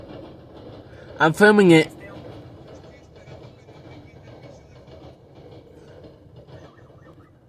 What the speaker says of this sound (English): look, the train